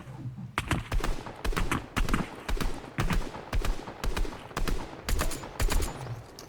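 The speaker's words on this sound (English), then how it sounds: "And lastly, the striker burst rifle" The striker burst rifle in Fortnite fires about ten sharp, evenly spaced bursts in quick succession, loud and close, with no talking over them.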